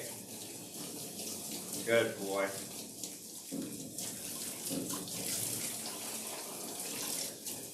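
Running water at low pressure splashes steadily over an Australian Shepherd during a wash at a grooming session, close and continuous, while a person talks softly to the dog.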